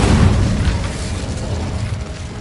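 A fiery Incendio spell goes off in Hogwarts Legacy, a loud, dense rumbling blast that surges at once and stays heavy and sustained for the whole stretch, slowly easing as it rolls on.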